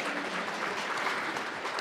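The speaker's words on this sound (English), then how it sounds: "Y'all can give us a hand clap again." A conference audience at a talk on an evidence-based practice framework gives a round of applause, an even patter of many hands heard at a distance, fairly soft and without speech.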